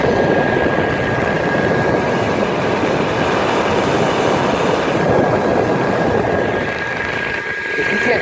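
A Fasco draft inducer blower runs with a steady, dense whooshing roar and an even airy hum throughout, loud and close, with no break in the sound.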